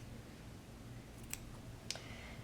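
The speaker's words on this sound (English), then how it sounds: "you're going to cut away the fabric" Fine-bladed scissors snip through fabric while trimming around a blanket stitch, giving two faint, separate clicks over a quiet, hushed background.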